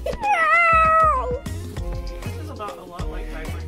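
A cat wearing a diaper lets out a long, loud, wavering meow, then several shorter complaining meows with thumps and rustling nearby.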